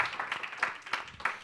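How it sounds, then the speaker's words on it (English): An audience at a fireside chat gives a short, faint round of applause, a scattering of separate claps heard at a distance with no voices over it. "Give a round of applause for that one."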